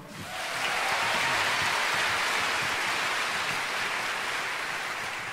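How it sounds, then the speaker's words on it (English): Audience applause for the designers at a college fashion show, a dense, steady wash of clapping that swells in within the first half second and holds at an even level without any voices. "can we have a round of applause for all the designers so far?"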